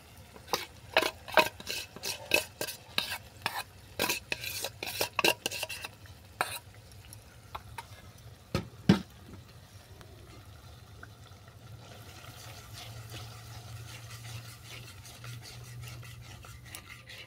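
A spoon scrapes and clinks against a pan while masala is stirred with beaten yogurt and ground dry fruit paste, a string of sharp clatters for several seconds, then a softer steady sizzle of sautéing takes over.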